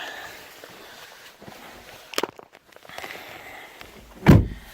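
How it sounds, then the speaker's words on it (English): After some quiet rustling and a couple of clicks, the door of a 2018 Toyota Corolla LE shuts with a solid, low thud near the end. "Closing the door."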